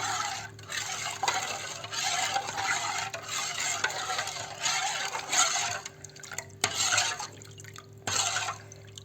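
Raw mango sherbet being stirred with salt: steady liquid sloshing and dripping water sounds continue close by, with a few louder splashes and clinks near the end, no voices.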